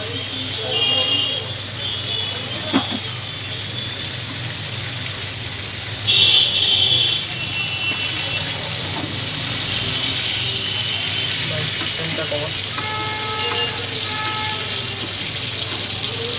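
Chicken steak sizzles in a pan with butter and garlic, a dense, continuous hiss and crackle like steady rain, with brief voices and clinks popping up now and then.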